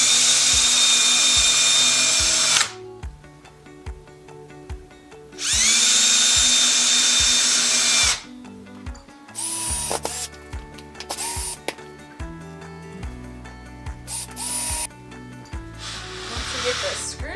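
A power drill drives screws into the hinges of lightweight folding craft-fair display shelves. There are two close, loud whirring bursts of a few seconds each, followed by quieter handling knocks and clatter of the wood.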